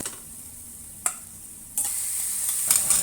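Lamb browning in a hot pan for curry gives a hiss of sizzling frying, broken by sharp scrapes of stirring and bright spits as the meat is moved around.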